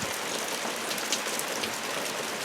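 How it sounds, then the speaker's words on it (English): Steady rain falls on a rainy Sunday at a house, a continuous broadband hiss of drops on surfaces with no talk, fairly even and moderately loud throughout. "The rain is coming down."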